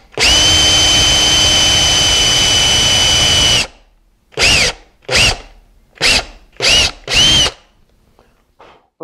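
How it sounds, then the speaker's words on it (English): A drill runs loud and steady for several seconds, then fires in five short bursts with silent gaps between them, as if boring into wood. "With a nice chunk of material hogged out with the drill"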